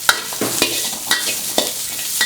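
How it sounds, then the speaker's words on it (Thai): Vegetables, including Chinese kale, baby corn and carrot, sizzle in a hot wok while being stirred, with rhythmic scraping and tossing strokes every half second or so. "ลงมาผัดอีกนิดนึงตามด้วย ผักคะน้าครับ"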